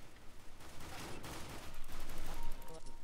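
Rapid pistol gunfire and other weapons crackle in Counter-Strike: Global Offensive Arms Race play, with a dense burst of shots forming a continuous, fairly loud din.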